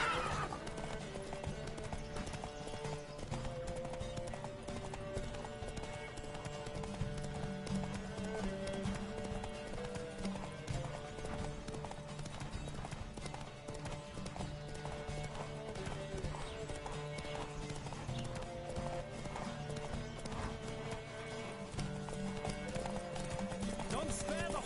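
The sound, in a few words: horse galloping in video game The Witcher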